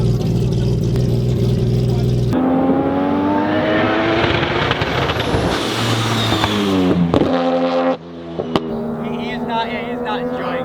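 A drag car on drag radial tyres runs on a road course, its engine loud and close, stumbling and surging at low RPM with rising and falling revs, and a sharp drop in level near the end; voices talk over it.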